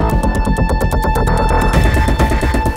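A phone rings unanswered, sounding as a loud, rhythmic electronic ringtone with repeated pulsing beats and a sustained tone. The pattern keeps going without a break and no one speaks.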